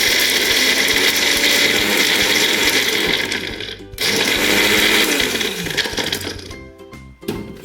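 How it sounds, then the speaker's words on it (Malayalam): A mixer grinder blends pepper chicken masala with cashews, with a loud, harsh whirring grind that runs in bursts, briefly stopping and restarting before winding down near the end. "മിക്സിയിൽ അടിച്ചെടുക്കാം"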